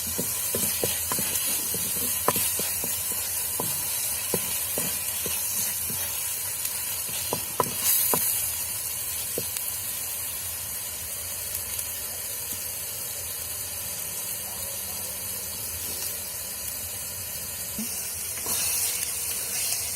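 Fish curry mixture with tomatoes sizzling and frying in an earthen pot, a steady close hiss with faint stirring clicks and scrapes throughout, no voices.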